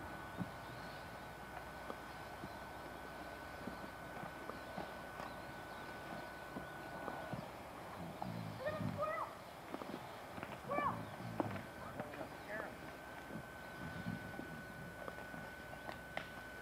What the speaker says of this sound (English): here come the hungry horses